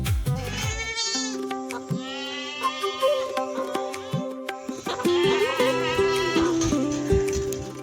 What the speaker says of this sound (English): Goat is the most important animal for the local people.